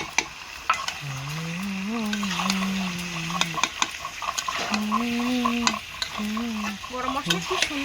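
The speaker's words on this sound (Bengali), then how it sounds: "আর এই দেখো মাংস দিচ্ছে এখানে।" Meat goes into a pot of fried spice masala over a wood-fired clay stove and is stirred, a steady sizzle with scraping spoon clatter, while a voice talks over it in stretches.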